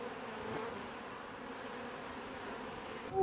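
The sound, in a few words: honeybees flying around a hive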